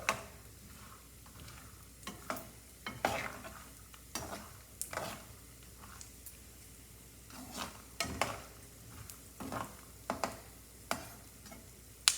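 Lentils fry in oil in a pan for a spicy Rayalaseema puffed rice snack. A soft, steady sizzle sits under sharp, intermittent scrapes and taps of a stirring spoon, close by and fairly quiet.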